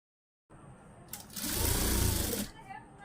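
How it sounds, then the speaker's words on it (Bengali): An electric sewing machine runs a fine seam along the cut edges of a fabric pillow cover, a steady close whirring burst of about a second that rises after a brief start and stops abruptly. "এখানে দুইটা কাটা অংশটাই চিকন করে সেলাই দিয়ে নিব"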